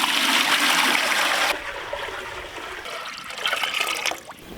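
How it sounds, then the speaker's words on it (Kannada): Water boils hard in a pot for rice at a roadside egg rice stall, a rushing bubble that is loud at first, then drops to a softer, steady burble. "ನೀರು ಚೆನ್ನಾಗಿ ಕುದೀತಾ ಇದೆ."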